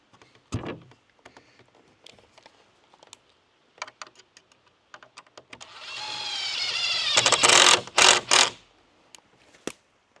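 A 2.5-inch screw driven into a pre-drilled hole in the gable of an 8-foot panoramic barrel sauna, a power driver whirring in one sustained, rising burst after a few light taps and clicks.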